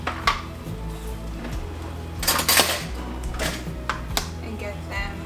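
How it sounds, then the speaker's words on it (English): Gnocchi sautéing in butter in a quick pan, with metallic clatter and tapping of pan and utensil, a louder scrape burst midway, and a soft spoken voice running underneath. "So I'm just going to use my very quick pan here with some butter"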